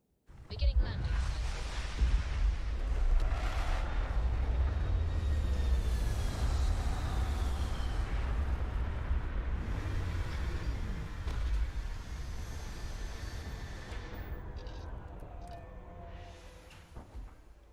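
A spaceship landing in Starfield: a steady, heavy low rumble of engines with whooshing air and faint rising tones, holding loud for most of the stretch before easing off near the end, with talk over it.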